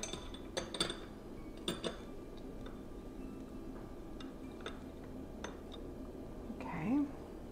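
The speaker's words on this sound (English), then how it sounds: "We'll put the little spoons in there." Little metal spoons clink and tick sharply several times as they are set onto a tiered tray, close and distinct over a quiet room background, with a brief murmur near the end.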